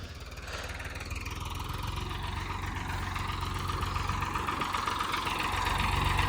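A Swaraj tractor's diesel engine idles steadily with a low, rumbling chug that holds constant and grows slightly louder, no voices over it.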